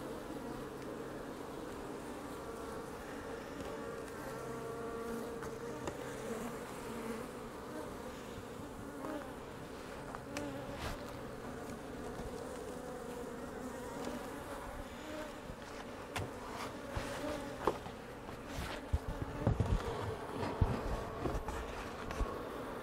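Honeybees buzz at a beehive entrance, a steady close swarm drone with individual bees passing near now and then. It grows a little busier toward the end.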